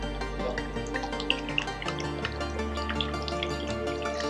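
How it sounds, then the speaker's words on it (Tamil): Water pours steadily into a tray, a continuous close liquid trickle with dripping splashes, the flow sound shifting partway through as the level rises. "அந்த ட்ரேயில் கொஞ்சம் தண்ணி ஊற்றிக்கிறேன்"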